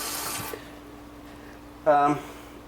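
Small parts from a Singer Model 337 sewing machine are rinsed in water, a brief sloshing splash near the end after a quiet stretch with faint talk at the start.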